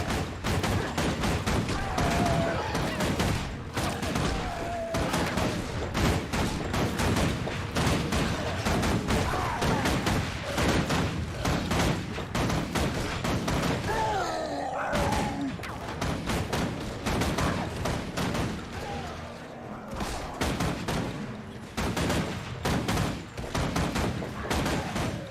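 Rifle fire in the video game Guild Wars 2 rings out in dense, rapid volleys of sharp shots and impacts, nearly continuous for the whole stretch with brief game effects in between.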